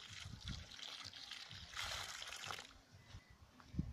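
Water trickles and splashes into the soil basin around a newly planted apple sapling in spring, soft uneven pouring with a few louder splatters, fairly close.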